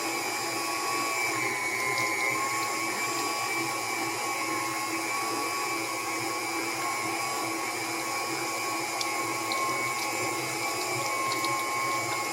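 A meat grinder works through saved chicken scraps taken from the freezer, giving a steady, unbroken motor drone with a whirring, grinding hiss and no pauses.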